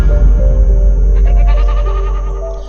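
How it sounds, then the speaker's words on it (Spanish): A goat bleats several times in a wavering cry over a steady low hum, fairly close and clear with no speech. "la cabra brincó del columpio y empezó a llorar de nuevo"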